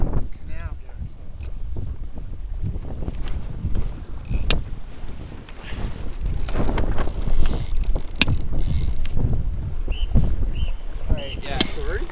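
Wind blows down a frozen canal in a Boxing Day blizzard, a steady roar with heavy gusting buffeting the microphone, while people talk nearby.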